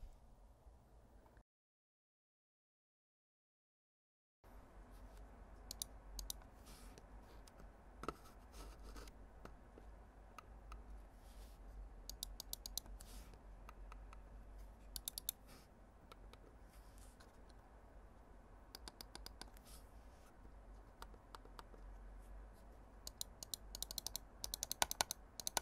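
Rapid, irregular plastic clicks from a Logitech G102 Lightsync computer mouse and keys, close up, with a short silent gap near the start and no voices.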